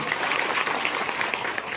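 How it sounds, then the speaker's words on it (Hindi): Audience at a World Indigenous Day gathering in Pansemal claps loudly and continuously, a dense wash of applause throughout the short moment with no speech over it. "एक बार जोरदार अपने लिए तालियां बजाएं"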